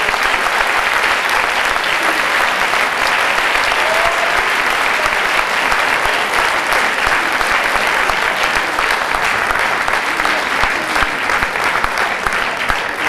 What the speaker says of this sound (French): que vous pouvez commencer à applaudir en nous remerciant